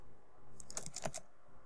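Keys clacking on a computer keyboard while text goes into a PowerPoint 2013 table, a quick cluster of close taps in the middle of a quiet stretch.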